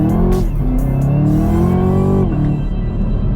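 Chevrolet Camaro ZL1 with a 10-speed gearbox accelerating hard, its engine note loud, close and steadily rising in pitch through the rev range, with a brief shift dip near the end.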